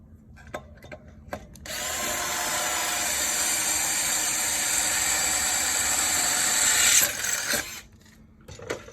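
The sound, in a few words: power drill drilling holes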